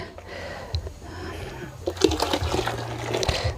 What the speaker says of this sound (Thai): ล้างกระมังไปเลย